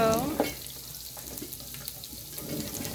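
Quarter of a white onion frying in a little oil in a pan, a steady close hiss and soft crackle running throughout, with faint clatter early on.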